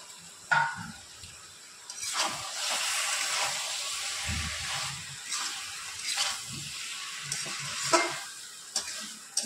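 Jackfruit and prawn curry sizzles steadily in a pan as it is sautéed, with a continuous frying hiss and occasional stirring scrapes and clinks, close and moderately loud.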